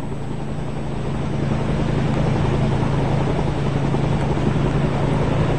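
Helicopter carrying ten freed Indonesian hostages from Sulu to Zamboanga, a steady loud engine and rotor drone heard from inside, low and unbroken for the whole stretch, with no talk.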